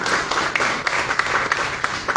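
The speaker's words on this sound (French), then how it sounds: "merci pour elle de vos applaudissements" Audience applause for a flag bearer at the Olympic opening ceremony in Paris, a dense, steady crowd clapping that fills the whole stretch without breaks.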